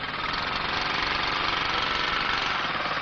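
A motorcycle engine hums steadily during riding practice, a faint, even, mid-pitched drone with no voices heard.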